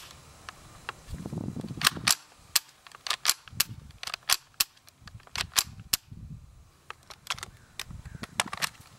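Ruger 10/22 rifle fired in a string of sharp single shots after a speed reload, irregularly spaced cracks with clicks between, moderately near outdoors.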